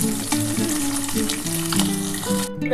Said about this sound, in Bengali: আর এই তেলের মধ্যে আমি একটা তেজপাতা দিয়েছিলাম আর অল্প একটু গোটা দিয়ে ফোড়ন দিলাম